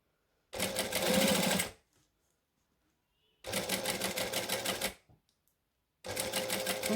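A sewing machine runs in bursts while stitching a line along a fabric bag, three busy mechanical runs of rapid needle clatter separated by short pauses, close and clear with no talking.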